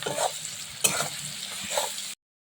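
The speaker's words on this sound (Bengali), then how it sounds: "এই রসুন ছেঁচাটা দিয়ে দিলাম পেঁয়াজের সঙ্গে।" Crushed garlic hits frying onions in a pan and sets off a bright, hissing sizzle, with a sharp stirring clatter partway through. The dish is a Bengali prawn curry with elephant foot yam, and the sizzle is close and steady.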